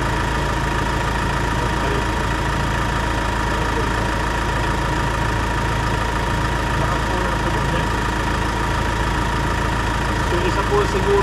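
Cooling fan motor running in the engine bay of a Ford Ranger XL 2024 4x4 manual pickup, giving a loud, steady, continuous droning hum with a low rumble that holds unchanged throughout.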